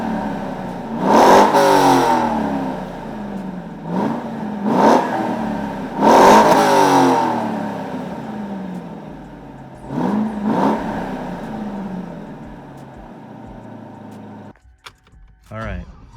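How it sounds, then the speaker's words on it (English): A 2002 Chevrolet Corvette Z06 C5 with its V8 revving in several sharp blips, each climbing and falling away, loud and close, before going quiet near the end. "let's take a listen to that V8 and see what it's all about"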